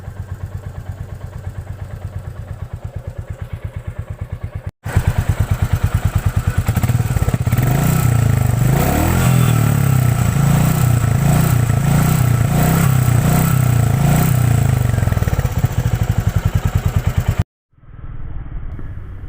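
A Royal Enfield Meteor 350 motorcycle engine starts and runs, its steady thumping idle loud and close for most of the stretch, preceded by a lower mechanical ticking before start-up and cut off abruptly near the end.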